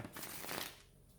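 A short, quick riffle of tarot cards being shuffled, close and soft, with no talking.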